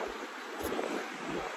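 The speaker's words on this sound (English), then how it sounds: "So windy." Steady broadband wind rushing and buffeting against the microphone outdoors at a barbecue, with low rumbling gusts, no voices.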